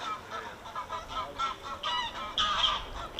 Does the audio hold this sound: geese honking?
yes